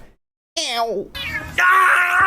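A cat lets out two drawn-out, wavering meows, close and clear, the second longer and louder than the first.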